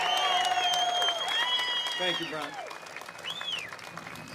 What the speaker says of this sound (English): Would the hometown crowd give a round of applause to Congressman Brian Style for me?